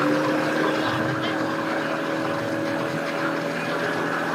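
A bass boat engine drones steadily nearby at a boat ramp, a low continuous rumble with a humming tone, holding constant throughout.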